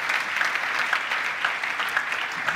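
A church congregation at an Easter Sunday service claps steadily for the Bible readings, a brief, even burst of applause from a moderate-sized crowd.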